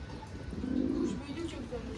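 Low throaty cooing of a pigeon, a soft rolling coo swelling and fading over a couple of seconds, close by, with a voice speaking quietly around it.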